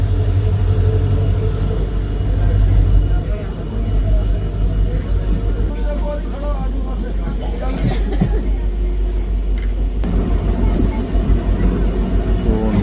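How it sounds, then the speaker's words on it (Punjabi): Passenger train 54553 from Ambala Cantt to Dhuri rolling along, a loud, continuous rumble of wheels and carriages heard from inside, with voices talking over the running noise. "ਕਲਾਂ ਤੋਂ ਆਪਣੀ ਟ੍ਰੇਨ ਜਿਹੜੀ ਚੱਲ ਪਈ ਆ ਜੀ"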